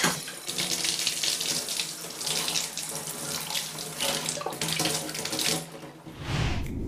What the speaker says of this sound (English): you're going to need to rinse them. If you have a sink-mounted sprayer,